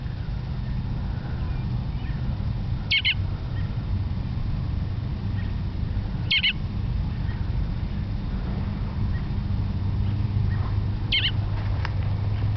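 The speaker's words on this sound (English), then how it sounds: "That bird's talking to you guys." Bird calls from a parent bird perched on a fence near its fallen baby, three short sharp chirps spaced several seconds apart over steady low outdoor background noise.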